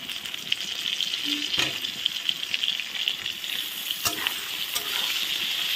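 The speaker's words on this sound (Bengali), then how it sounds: "দেখো আলুর সঙ্গে পটলটাও দিয়ে দিচ্ছি।" Potatoes and pointed gourd fry in a pan with a steady, close sizzle, punctuated by occasional stirring scrapes and small bursts of spattering oil.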